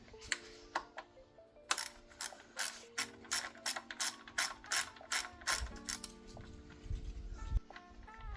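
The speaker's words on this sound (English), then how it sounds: "we're gonna undo the oil drain plug," A ratchet clicks in quick, close bursts while loosening a 13mm oil drain plug on an Alfa Romeo Stelvio or Giulia 2.2 JTDm, with pauses between strokes.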